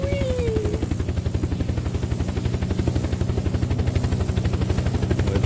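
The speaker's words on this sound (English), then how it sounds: "I got a helicopter." A helicopter in the Roblox video game, a loud steady rotor chop with rapid regular pulses and engine drone throughout, briefly with a rising whistle at the start.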